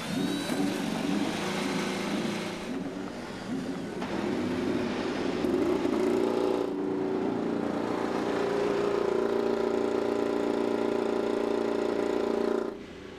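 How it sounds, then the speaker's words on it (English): Chevy and Honda IndyCar race car engines fire up on the streets of Toronto and settle into a loud, sustained buzzing idle, a dense layered drone that holds steady before cutting off near the end. "'21 IndyCar engines, Chevy and Honda, fired and ready to go on the streets of Toronto today"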